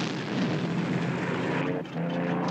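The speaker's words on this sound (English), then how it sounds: "Where'd you get this plane, Face?" A propeller airplane engine drones steadily from inside or near the aircraft in a scene from The A-Team, a continuous loud hum with a brief dip in level partway through, no voices.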